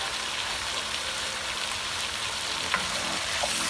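Bony chicken fries with onion paste in a pan over high heat, a dense, even, loud sizzle that holds steady throughout with a couple of faint stirring clinks.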